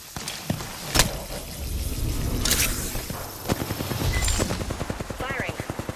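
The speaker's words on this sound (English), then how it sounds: "Firing." Apex Legends gunfire from the Bangalore character's side, loud sharp shots and a sustained rapid automatic burst ending the stretch, with brief in-game voice lines mixed in.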